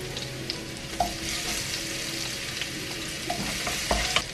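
Mung beans being sautéed with ginger, garlic, tomato and onion in a pan, a steady close sizzle and frying hiss with a few light stirring scrapes and clicks throughout.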